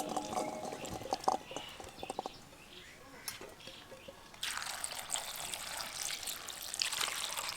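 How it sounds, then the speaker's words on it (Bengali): Grapes being washed in water by hand for a sweet recipe, with splashing, trickling and dripping, quiet at first and then a steadier rush of running water. "আবারও একবার আঙুরগুলোকে জল দিয়ে ধুয়ে নেব।"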